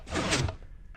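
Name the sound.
Minecraft redstone door opening, from a video game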